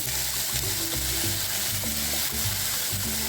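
Soaked cashews and frozen peas sizzling loudly in a hot pan, a dense continuous frying hiss with rhythmic low scraping from stirring across the whole stretch.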